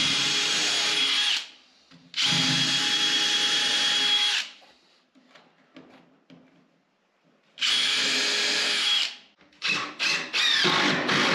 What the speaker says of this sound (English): so I'm gonna pre-drill these